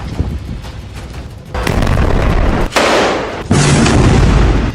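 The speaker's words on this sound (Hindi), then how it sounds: "हिजबुल्लाह ने इजरायल के ठिकानों पर 4 बुरकान मिसाइलें दागी और उसके बाद यहां की हालत देखिए।" Missile strikes land on an Israeli army post as a sequence of loud, close booms, each one opening into a broad, rumbling roar that swells and overlaps the next, with no voices.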